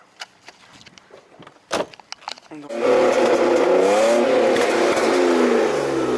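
A BMW E34 sedan starts up after a few clicks and knocks, then settles into a loud, steady idle with a slightly wavering engine note that fills the rest of the clip.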